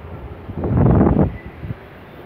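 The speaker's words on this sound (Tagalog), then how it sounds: "Lakas ng hangin guys" Strong typhoon wind gusts by the sea, a short roaring buffet against the microphone that swells and fades over about a second amid a low background rush.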